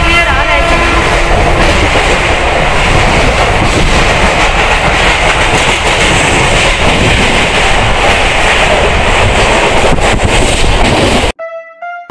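A local commuter train in Mumbai rumbles loudly and steadily with rhythmic rail clatter throughout, cutting off abruptly near the end.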